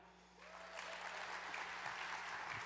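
A keynote audience breaks into applause, building quickly and holding as a dense, steady patter of many clapping hands.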